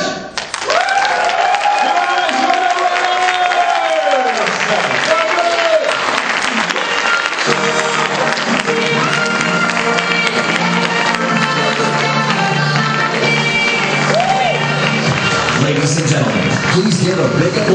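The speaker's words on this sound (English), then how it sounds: "Give a big applause to the winning team of Imagine Cup Kurdistan 2012." A large crowd applauds and cheers for the winning team at the Imagine Cup Kurdistan 2012 student competition, loud, sustained clapping that fills the whole stretch, with an announcer's voice heard over it at the start.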